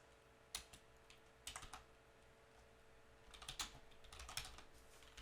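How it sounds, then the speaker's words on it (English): Keys tapped on a computer keyboard while entering an address, quiet scattered clicks in short clusters with pauses between, close and faint, no talking. "Here I'm going to go ahead and type in my address."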